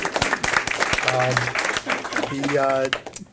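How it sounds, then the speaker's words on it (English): A school audience applauds its teachers in a steady burst of clapping lasting a few seconds, with voices calling and talking over it before it fades out. "Our good teachers, a round of applause."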